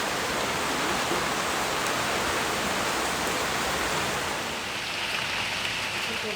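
Rain falls steadily outdoors, a broad, even hiss of drops on surfaces that stays unchanged and fairly loud from start to finish, with no talking.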